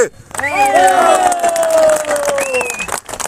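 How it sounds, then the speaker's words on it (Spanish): A crowd cheers and claps loudly for a group of people, with rising shouts, whistles and high-pitched cries swelling together over steady applause, close and energetic, then tapering off. "un aplauso para esta gente"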